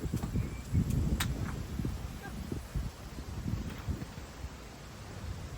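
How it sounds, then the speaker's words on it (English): Strong gusty wind buffets the microphone outdoors, producing rough low rumbling bursts that rise and fall in waves. "Super windy."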